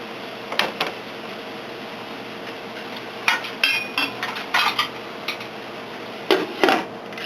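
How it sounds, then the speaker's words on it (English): A lid set onto a cooking pot holding lamb-stuffed spaghetti squash, a few light metallic clinks and taps spread out over several seconds, close but fairly quiet with no talking. "I'm going to put the lid on it."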